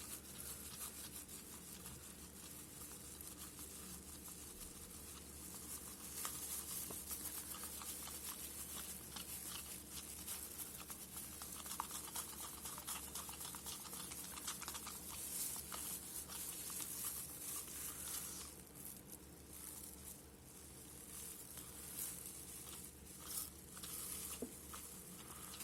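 Epoxy resin being stirred in a container for resin art makes a faint, continuous scraping and swishing with soft, irregular rubbing strokes, quiet and close, with no speech.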